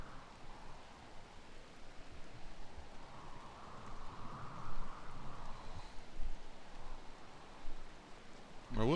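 Rain falls in the video game RimWorld, a soft, steady broadband hiss with gentle swells, faint and continuous throughout.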